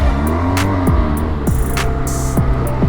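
Car engine in 6th gear with a badly slipping clutch, revving loudly and continuously, pitch repeatedly climbing then dropping in several surges over a steady drone.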